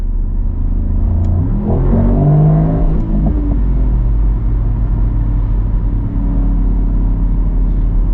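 An 816 hp Mercedes-AMG GT63 Coupe V8 hybrid accelerates hard from the cabin, a loud rising engine roar sweeping up through the gears, then settling into a steady deep drone.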